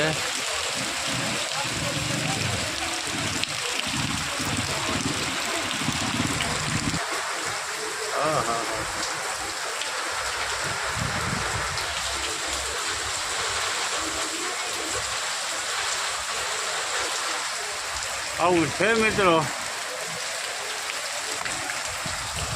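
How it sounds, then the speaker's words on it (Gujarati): Heavy rain falls on the Dwarka–Porbandar highway, a constant broad wash of sound beneath someone speaking throughout. "વરસાદ વરસે છે જોરદાર"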